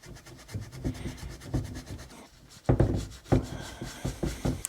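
Scraping and rubbing on the cylinder of a KTM 250 SX two-stroke dirt bike, clearing old green gasket material to a polished surface, heard as repeated short rasping strokes, close and fairly quiet, with a brief pause midway before firmer scrapes.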